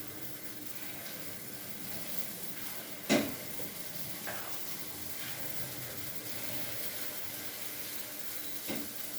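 Paddu batter sizzles in a hot paddu pan with a faint, steady hiss, broken by a few soft clicks and taps.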